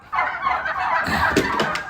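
A turkey on a home terrace farm gobbles in a loud, rapid, warbling burst close by, with a few sharper clucks near the end.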